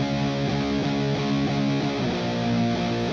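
Double-tracked distorted electric guitar from a Donner DST-550, with dense sustained power chords changing every few beats, loud and saturated throughout with no voice over it.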